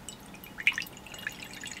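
Used, crusty developing solution being poured from a bottle, heard as a soft trickle with small, bright drips and splashes at close range.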